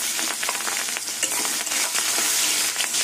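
Chopped onions and green chilies frying in hot oil with whole cumin seeds, a steady close crackling sizzle with spits and pops throughout, stirred occasionally, no voices.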